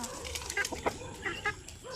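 Native chickens cluck in short, scattered bursts on a Filipino poultry farm, a few soft calls rising over a quiet background with some faint murmuring.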